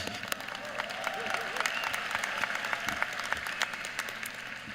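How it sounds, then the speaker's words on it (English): Commencement audience at the UCF Fall 2024 ceremony applauding the alumni, a steady wash of scattered clapping from a large crowd at moderate distance, with faint voices mixed underneath. "Let's applaud the alumni."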